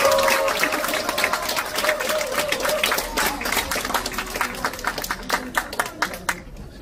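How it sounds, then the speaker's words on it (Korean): An audience applauds at the end of a lecture, a dense burst of clapping that thins into scattered, fading claps, with a voice speaking over the start. "이한주 연구원장님께 다시 한번 큰 박수 부탁드리겠습니다"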